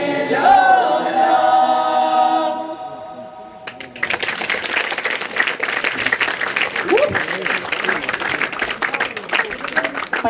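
A festival concert audience breaks into sustained, dense applause for departing singers after a stretch of voice and music, the clapping loud and close.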